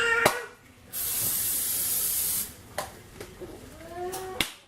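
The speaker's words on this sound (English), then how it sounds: "Spray it again." Cooking oil spray hisses onto kale chips in one steady burst of about a second and a half, close by, followed by quieter kitchen clatter.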